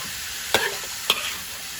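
Minced pork stir-fried in a hot pan with dried chilies, a soft background sizzle broken by two sharp scrapes of a spatula against the pan, close and brief with no talking.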